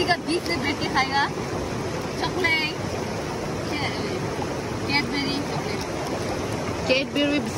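Steady broadband rush of river water flowing around a family's summer picnic spot midstream, with wind buffeting and people talking over it throughout.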